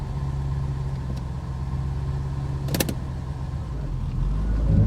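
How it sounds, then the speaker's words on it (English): A Corvette engine idles steadily close by, a low constant drone with a brief higher burst partway through and the rumble swelling slightly toward the end. "There she goes, idling down."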